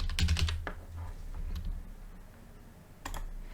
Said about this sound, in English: If I just type in Nvidia.